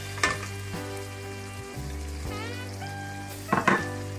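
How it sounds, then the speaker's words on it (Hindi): Mutton karahi gosht with green chillies frying in a wok, a steady low sizzle under a faint tonal hum, with a couple of brief louder stirs near the start and end, quiet and close, no talking. "और इसको 2 मिनट मजीद भूनेंगे"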